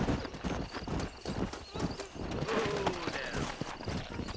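Horse hooves clip-clopping at speed in the Red Dead Redemption western game, a steady driving gallop beneath a continuous bed of game sound, with a horse's whinny rising briefly partway through.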